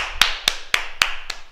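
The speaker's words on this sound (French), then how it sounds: "Et on s'applaudit." Members of an adult martial arts class clap for themselves after a drill, five sharp separated claps in a quick, slightly uneven rhythm, fairly faint in a quiet room.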